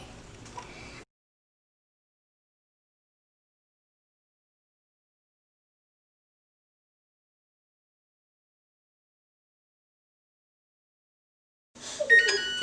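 A kitchen oven beeps to signal it has finished preheating for chocolate chip muffins: a short burst of electronic tones sounds at the very end, after a long stretch of near silence.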